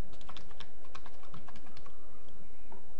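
Rapid keystrokes on a computer keyboard, close and clear, with irregular clicking taps over a quiet background hum and no talking.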